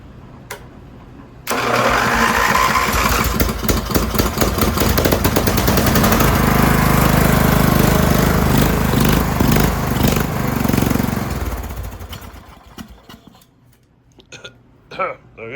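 A small engine on a home-built 6x4 side-by-side, freshly fueled with a cleaned carburetor, catches and runs loud and steady for about ten seconds, then winds down and dies, leaving brief clatter and a voice.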